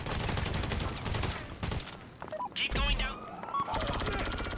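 GTA Online gunfire crackles in rapid bursts, loud and close in places and thinner in others, mixed with game effects and voices talking.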